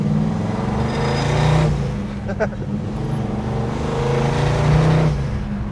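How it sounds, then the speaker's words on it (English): Big-block V8 of a 1967 Chevrolet Chevelle rumbling steadily at close range with slight swells in revs, while someone talks over it. "Big block under the hood on this thing, and it sounds good."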